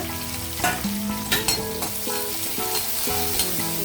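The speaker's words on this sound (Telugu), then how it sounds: "తర్వాత ఎండుమిర్చి కూడా వేసేస్తున్నాను. తర్వాత కరివేపాకు" Dried red chilies and curry leaves sizzle and crackle in hot oil for jeera rice, a steady close frying hiss with a few brief stirring clatters and pops, no talk.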